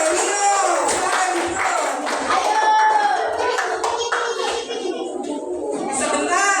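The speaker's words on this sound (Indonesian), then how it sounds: "Yuk kita beri tepuk tangan untuk Bapak Bunga Matahari" Lively applause from a group of children for a man called Bapak Bunga Matahari, dense rapid clapping mixed with excited young voices and shouts, steady throughout at close range.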